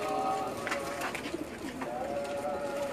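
Young black Cheena Ladla teddy pigeons cooing nearby, soft repeated throaty calls with a few brief higher chirps over a low background hum.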